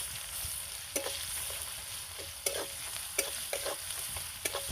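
Garlic fries in a little oil with poultry chicken in a pan, giving a steady close sizzle broken by occasional clinks and scrapes of a stirring utensil.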